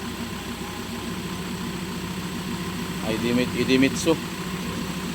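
A Mazda BT-50 3.2 diesel engine idling automatic, a steady low rumble close by, with someone talking over it toward the end.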